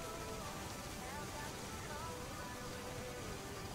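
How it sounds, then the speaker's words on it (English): Steady rain falling over a quiet lakeside town in the game Lake, a soft, even hiss of drops that holds unchanged throughout, faint and continuous with no distinct individual splashes. "Can't harvest taters with all this rain"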